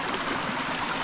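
Spring water running along the Appalachian Trail after heavy rains, a steady close trickling and bubbling stream flow that fills the short moment evenly with no voices.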